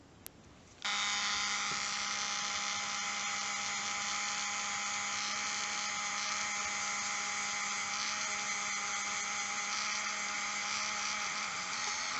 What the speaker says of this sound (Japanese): 電動ミニルーターを使ってみます。